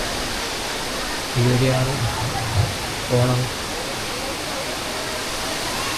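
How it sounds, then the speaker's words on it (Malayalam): The Areeckal waterfall near Piravom, Kochi, gives a steady broadband rush of falling water that holds evenly throughout, with a short stretch of speech rising briefly over it. "ഇവിടെ ആകെ ഈ ഒരു വെള്ളച്ചാട്ടം ഇത് മാത്രമേ ഉള്ളൂ"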